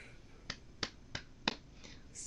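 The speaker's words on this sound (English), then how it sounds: "Slow clap." Slow, evenly spaced claps, five sharp hits about a third of a second apart, close and fairly quiet, given as a wry round of applause at a desk.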